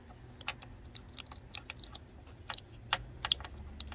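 Plastic tow hitch wiring harness plug on a 2018 Toyota Sienna being clicked into its connector, giving a series of small sharp clicks and rattles, close and quiet, with no talking.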